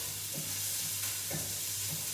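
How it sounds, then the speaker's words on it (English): Onions sizzle steadily in a hot frying pan, a bright continuous crackle with a few soft scraping stirs at regular intervals. "sizzle and it seems pretty loud, I kind of turn the heat down"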